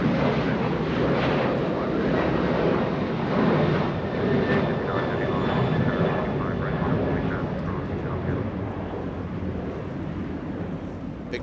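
An Alaska Airlines Boeing 737-900 departs Los Angeles for Mazatlan, a broad, steady jet roar with a faint high whine, loud and sustained for the whole stretch, with a voice talking over it.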